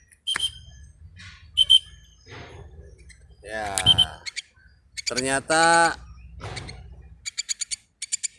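A young Javan pied myna (jalak kebo) answers with short, sharp chirps and calls in scattered bursts close by, while people talk between the calls.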